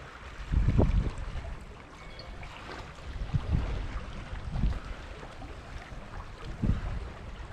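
Running water at the Tetbury Ford, a normally dry road crossing now flowing about a foot deep, makes a continuous outdoor wash, broken by several dull low-frequency wind thumps against the microphone, with no voices.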